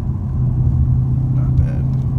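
A 2017 Mustang GT with a Soloperformance Mach XV catback exhaust pulling in fifth gear under light throttle: a steady, deep, droning exhaust rumble, moderately loud and close, with a slight rise in tone.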